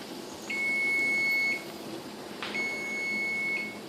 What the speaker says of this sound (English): I've got another timer going off right now because I'm canning some tomatoes from my garden